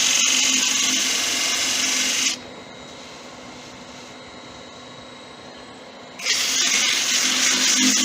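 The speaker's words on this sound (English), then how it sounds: "move the sandpaper around the place while you're doing it" Sandpaper held against a spinning tiger wood box on a wood lathe, giving a loud, steady abrasive whir and rasp that drops to a quieter motor hum midway before the sanding resumes at full strength.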